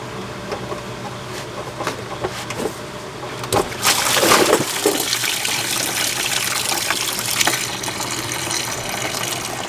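Engine coolant gushes from a hose into a drain pan under a Ford F53 with the 6.8L Triton V10, starting as drips and trickles, then bursting into a loud, steady splashing rush that keeps pouring.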